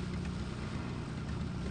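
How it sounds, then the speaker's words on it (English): Motorboat engine in the Amerzone video game hums as a brief, faint, steady low drone. "sounds like we're on a motorboat"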